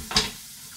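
Sunflower oil poured into a pan of frying sausage sets off a sudden sharp burst of sizzling that quickly settles into a faint, steady crackle, with no talking.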